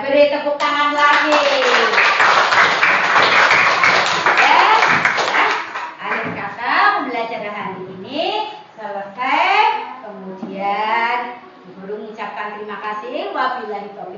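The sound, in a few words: schoolchildren clapping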